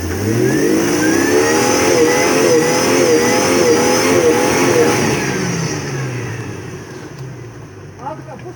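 An off-road vehicle engine revs hard at full throttle, close and loud, its pitch climbing and wavering for several seconds before it eases off and fades toward the end.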